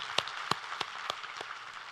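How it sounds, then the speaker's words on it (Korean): A handful of separate claps sound softly at uneven intervals against faint room noise during a church sermon, a thin smattering rather than full applause. "우리 하나님께 감사와 영광의 박수를 드리겠습니다"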